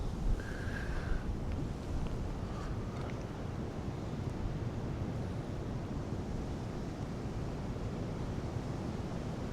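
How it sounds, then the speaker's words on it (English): Steady wind buffets the microphone at an outdoor archery range with a constant low roar, loud and unbroken from start to finish, no voices. "And it's really windy too."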